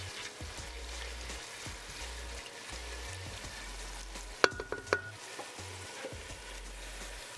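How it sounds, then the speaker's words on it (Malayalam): Onion fries in a pan for chicken rice, a steady moderate sizzle with a brief burst of metallic spoon scrapes midway as it is stirred. No one speaks. "ഇതൊക്കെ നല്ലോണം മൂത്ത് വരുമ്പോൾ സവാള ഇട്ട് കൊടുക്കാം. നല്ലോണം ഇളക്കി കൊടുക്കുക."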